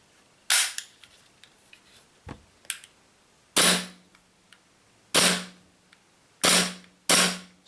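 A WE Glock 17 Gen 5 green-gas blowback airsoft pistol fires five sharp, snappy shots, the first alone and the rest spaced a second or so apart, with small clicks and handling noises between them, close and loud.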